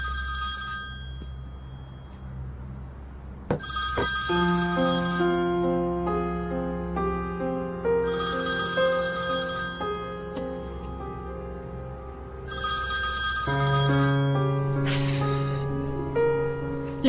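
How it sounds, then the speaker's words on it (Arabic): A mobile phone rings in repeated bursts of a bright electronic melody over sustained background music, loud and close, with no talk. "مراد، تليفونك عم بيرن."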